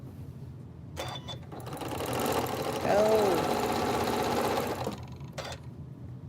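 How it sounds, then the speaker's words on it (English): A sewing machine stitches colored fabric pieces together for a quilt, running in a steady, fairly loud whir that swells in the middle, while a person talks over it. "So I'm just going to sew these together because I already know that those are going to be the points."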